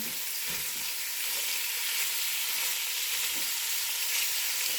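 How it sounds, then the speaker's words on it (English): Sausage sears in a pan for potato and kale soup, giving a loud, steady hiss and crackle of frying fat that fills the whole stretch with a few faint scrapes and no speech. "I'm going to let this sear up"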